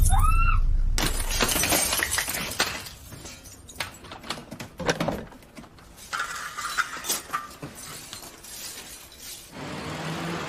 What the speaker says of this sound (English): Phillips moves to breach the last line of safety for the bank staff, a reinforced glass security door